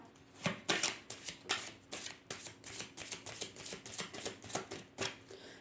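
Tarot cards are shuffled by hand in a steady series of crisp, riffling bursts with short pauses between them, close and clear, with no talking over them.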